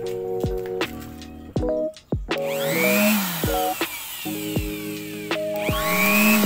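A cheap electric blower used to clean a desktop PC starts after a couple of seconds and then runs with a loud, steady rushing hiss, with tonal music playing over it throughout.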